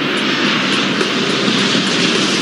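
Jet airliner taking off in the airport management video game Airport Madness 4, a loud, steady, broadband engine roar that holds constant throughout with no talking.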